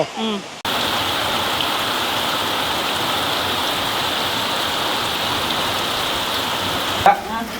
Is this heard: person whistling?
no